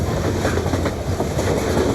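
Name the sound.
Blackreach Railroad metro train running in Skyrim video game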